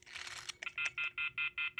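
A brief rustle gives way to a rapid series of evenly spaced telephone keypad tones from a lineman's test set, six or so short beeps in quick succession.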